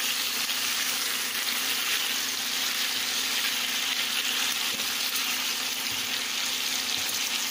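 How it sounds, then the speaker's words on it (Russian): Seasoned turkey meat frying in a pan on a home stove, a steady bright sizzle and crackle, close and continuous with no talking. "Вот моя индюшечка жарится."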